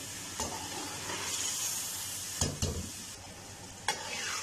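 Chicken simmers in masala gravy in a pan, a soft steady sizzle with a few sharp scrapes or knocks from a spoon, fairly quiet and without any talking.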